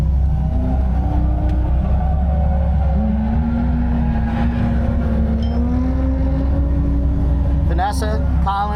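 A car engine holds a loud, steady drone that rises gradually in pitch during a drifting lap, with continuous road and engine rumble while people talk over it.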